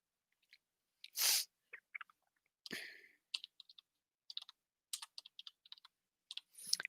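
Typing on a computer keyboard while setting up a mini PC, with sparse, close clicks that come in short irregular clusters separated by pauses, plus a couple of louder breathy noises in between.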